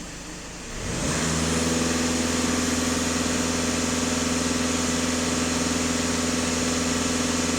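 Skoda Superb 2.0 TDI diesel engine at idle, then pushed to full throttle, rising into a loud, sustained, even drone that holds steady to the end.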